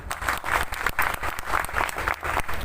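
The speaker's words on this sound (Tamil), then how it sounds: "நல்லா கைத்தட்டு" Audience applause at a formal public service award function held in a hotel, a room of people clapping in loose rhythmic pulses, moderately loud and close, with no talking over it.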